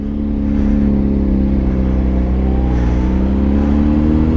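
A steady, loud Honda CBR motorcycle engine hums at a constant idle or cruise, its low harmonic drone unbroken throughout with a slight pitch shift midway.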